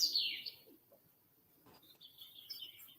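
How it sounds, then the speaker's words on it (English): Several birds chirp and sing, with bright high calls near the start and again toward the end, faint and fairly distant against a quiet background. "I don't mind hearing birds sing."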